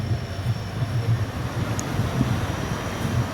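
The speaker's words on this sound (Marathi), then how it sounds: "आपली ट्रेन हळूहळू स्पीड घेत घेत परभणीच्या पुढे जात आहे." A train near Parbhani slowly builds speed, giving a steady close rumble with low rhythmic clatter from the wheels and a broad rushing hiss throughout, no voices.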